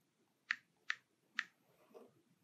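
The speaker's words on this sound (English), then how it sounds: "So I'm going to type in his email address." Three sharp, evenly spaced clicks from a computer keyboard while an email address is typed, faint and close, followed by a softer muffled tap.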